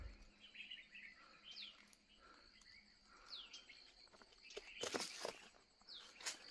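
Small birds in the Ajanta jungle give short, scattered chirps at moderate distance over a faint steady insect buzz, with a few brief rustling and crunching footstep sounds close by near the end.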